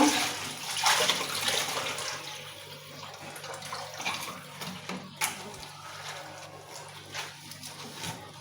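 Dishes being washed under a running kitchen tap, a steady hiss of flowing water with occasional clinks and splashes, moderately close and fairly quiet, with no voices.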